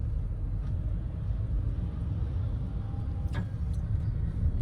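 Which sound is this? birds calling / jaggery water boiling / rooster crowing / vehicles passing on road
vehicles passing on road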